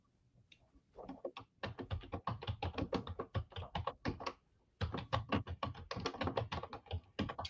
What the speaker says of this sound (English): I hear sister typing away